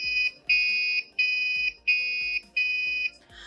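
Twin STEM kit electronic buzzer sounding a police-siren-like pattern: shrill piercing beeps alternating in pitch, five tones back to back at a steady rhythm, close and clear.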